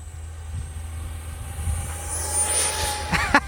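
A jet-powered RC stunt truck's engine whines steadily, rising into a louder rushing hiss and roar near the end, with a couple of sharp clicks at the close.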